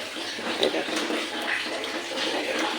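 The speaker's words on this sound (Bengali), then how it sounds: "বাথরুমের কলটা খুললে হয়তো এখান দিয়ে জল বেরোবে" Water gushing steadily from an opened bathroom tap, with a constant splashing rush throughout, probably with a voice audible in the background.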